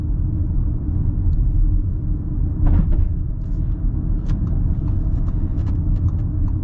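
A 2024 Audi A6 with a 3-liter V6 engine drives along, giving a steady low, heavy rumble of engine and road noise heard from inside the cabin, with a few faint clicks and knocks over it.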